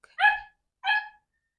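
A dog gives two short, sharp barks, close and clear, separated by a brief silence, with no talking.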